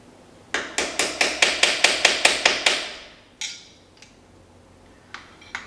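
Metal taps from a small, thin-bladed screwdriver striking camshaft tabs on an International Farmall Super H tractor engine during restoration: a quick, steady run of about eleven close, bright ticks, then a few isolated taps after a pause.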